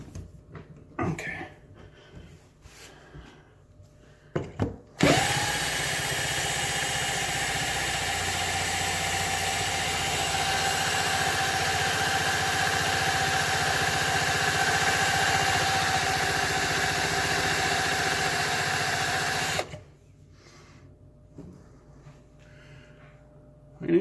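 A power drill fitted with Black & Decker bits grinds steadily into an American Lock Series 30 padlock, a continuous loud whine lasting about fifteen seconds and then stopping abruptly, with faint handling noises before and after.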